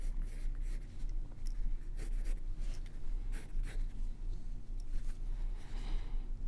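Pencil sketching on paper, drawing round shapes for a cartoon ninja turtle's fist, with continuous close scratchy strokes in short bursts and no voices.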